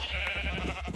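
Sheep in Minecraft bleating while being herded into a dungeon pen, a few short overlapping baas in quick succession, moderately close.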